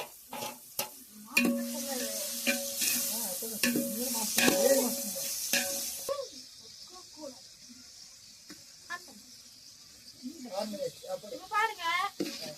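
Onions, tomatoes, mint and coriander for chicken biryani sizzle in a pan as a spoon stirs and scrapes through them, with hissing frying and clinks, while a person talks over the cooking.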